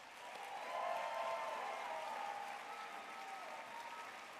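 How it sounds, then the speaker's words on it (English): Audience clapping for elementary music teachers at a county music festival, a soft, distant wash of applause that swells and holds steady throughout. "Please join me in a round of applause for our elementary music teachers."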